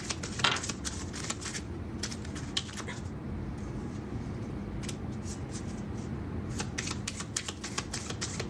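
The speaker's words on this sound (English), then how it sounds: "I'm going to pull a couple of guidance cards." Guidance cards being shuffled by hand in a steady, close, crisp riffling patter that pauses briefly midway and then resumes, with no talking over it.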